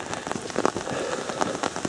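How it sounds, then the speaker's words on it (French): Steady rain patters on an umbrella during a countryside hike, a dense, close drumming of drops with small irregular bursts, continuous and fairly loud with no voices. "comme vous pouvez l'entendre, il pleut."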